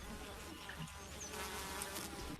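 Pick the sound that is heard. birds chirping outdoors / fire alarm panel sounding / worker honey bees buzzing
worker honey bees buzzing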